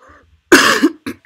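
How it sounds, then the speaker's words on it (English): A person lets out a single harsh, close cough in a quiet indoor room, preceded by a faint murmur and followed by a short second bark, loud and isolated with no talk over it. "Again, I'm sorry that I'm coughing."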